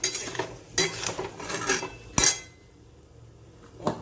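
A metal spoon scrapes and clinks against a cooking pan while green chillies and raw mango are stirred, a few distinct knocks and scrapes over a soft frying hiss, with no talking.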